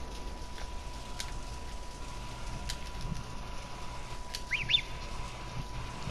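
A bird calls out in heavy rain near the ocean, a few short faint chirps rising over a steady hiss of rainfall, with one louder call near the end.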